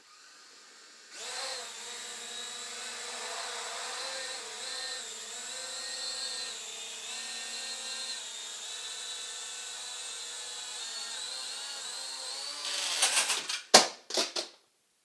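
Indoors, the motors of a Falcon drone spin up into a steady, droning whine that holds for several seconds, then ends in a few sharp clattering knocks.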